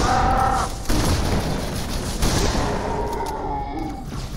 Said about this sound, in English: Love this shotgun.